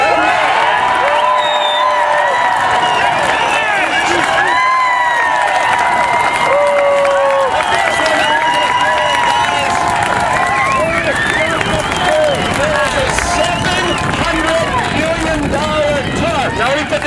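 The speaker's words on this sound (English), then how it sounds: "I need to have a really loud cheer to get them riled up and ready to go." A crowd at an outdoor Tax Day tea party rally in Sioux Falls cheers loudly, with shouting, whooping, clapping and babbling voices blending into a continuous roar that stays close and intense.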